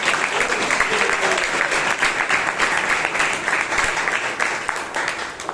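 Attendees at a Bangalore Toastmasters club meeting applauding, a loud, dense, continuous round of clapping from a room of people, close and sustained before tapering slightly at the end.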